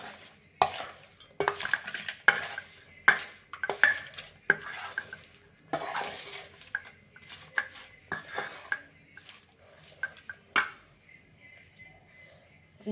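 A spoon stirs amla pickle with lemon juice in a metal pot, making repeated scraping strokes and sharp clinks against the sides, close and fairly loud, with no talk.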